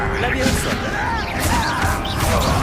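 A Bombarda blasting spell in Hogwarts Legacy goes off with a sharp crash and crackling magical whooshes, loud and close, amid busy game sound effects.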